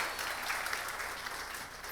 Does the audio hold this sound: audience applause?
yes